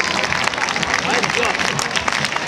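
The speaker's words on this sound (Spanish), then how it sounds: "Palmas Benidorm, palmas." Crowd clapping in a bullring in Benidorm during a festive bullfighting show, dense steady applause filling the clip with a voice talking over it.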